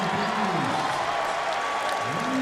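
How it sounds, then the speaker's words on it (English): An arena crowd at a Marquette at Providence college basketball game gives a steady, moderate round of applause for player Ryan Fazekas, with broadband clapping throughout and faint crowd noise beneath. "A nice round of applause"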